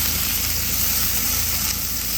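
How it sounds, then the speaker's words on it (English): Chopped onion sizzles loudly and steadily in a hot pan, a continuous close frying hiss with no talking, while cooking at camp during a moose hunt along Alaska's Denali Highway. "I'll throw this onion in there. Cook that onion down"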